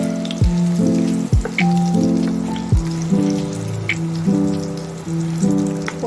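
Pumpkin flower fritters coated with poppy seeds frying steadily in hot oil, a close, continuous crackling sizzle with a few sharp pops and hisses, alongside a recurring tonal hum.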